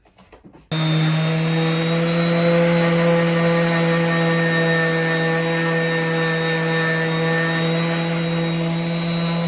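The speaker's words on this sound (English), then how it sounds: "We're gonna sand it with a orbital sander, and we're using 180 grit sandpaper." After a few faint taps, an orbital sander fitted with 180 grit sandpaper starts on wood and runs as a loud, steady, high-pitched hum with an even sanding buzz, close and continuous to the end.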